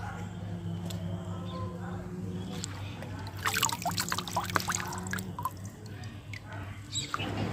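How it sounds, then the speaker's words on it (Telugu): Betel leaves are swished in a vessel of water, giving a cluster of splashy trickling bursts midway over a steady low hum, with quieter dribbles and soft voices around them. "ఇప్పుడైతే తమలపాకుల కోసం వీటిని వాటర్లో కడగాలి"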